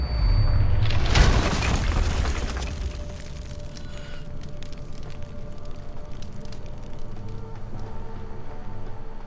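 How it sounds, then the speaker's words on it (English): A grenade explodes in a video game, one loud, heavy boom that rolls out over a couple of seconds and fades into a lingering rumble and scattered debris sounds. "There goes that grenade."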